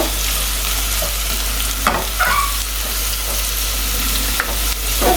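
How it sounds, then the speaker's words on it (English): Spring onions fry in a pan with a loud, steady sizzle over a low constant hum, punctuated by a few stirring scrapes and knocks, with no one talking. "I'm going to go in with the spring onions. I'll let that fry."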